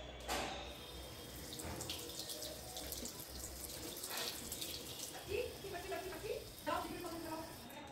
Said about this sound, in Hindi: तो इसको जल्दी से भरते हैं पानी से।